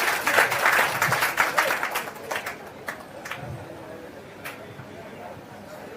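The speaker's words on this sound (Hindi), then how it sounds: "एक बार सभी प्रत्याशियों के लिए आप लोग जोरदार ताली बजा दीजिए।" Scattered clapping from an audience at a youth club election gathering in Bihar, honouring all the candidates; dense for about two seconds, then thinning to a few isolated claps as a voice talks.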